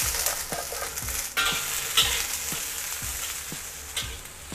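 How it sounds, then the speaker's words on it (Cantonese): Long beans and cured duck intestine stir-fry in a red-hot oiled wok with a continuous bright sizzle, punctuated by regular metallic scrapes and clanks of the spatula tossing the food, close and with no talk. "我哋炒呢一個臘鴨腸豆角先"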